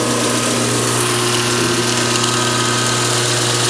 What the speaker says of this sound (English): It's a dual capacitor motor. It starts immediately.